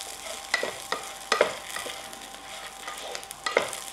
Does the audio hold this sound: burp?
no